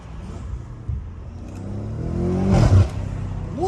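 A BMW M5 Competition with new downpipes revs up, its engine rising with turbo whine and whoosh, close and loud, ending in a brief clattering flutter.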